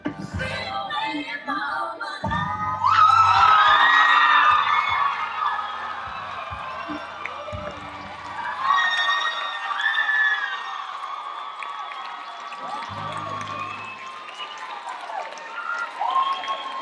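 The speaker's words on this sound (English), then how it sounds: "By the sound of that applause" An audience at a NARD show applauding and cheering, a loud sustained crowd roar with whoops and shouts that swells and eases over several seconds.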